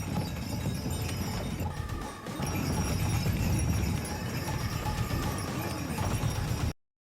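Horse hooves clip-clop steadily as a horse-drawn cart travels along a road, a continuous rhythmic clatter at close range with road noise beneath, stopping abruptly near the end.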